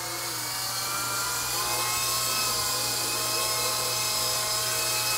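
A Blade 120 SR small RC helicopter flies nearby with a steady, high-pitched rotor and motor whine and hum that holds constant throughout, loud and alone.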